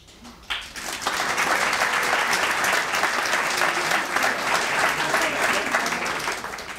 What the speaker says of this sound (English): why did Jack get an applause, but Bill did not